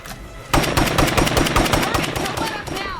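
Rapid bursts of automatic gunfire in the video game State of Decay 2 crackle in a fast, steady rhythm after a brief quiet start, loud and close.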